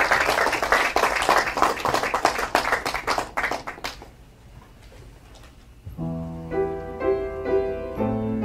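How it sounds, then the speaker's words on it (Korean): Audience applause at a Korean concert, dense and steady for about four seconds before fading, then a piano begins playing sustained chords alone. "박수 부탁드리겠습니다."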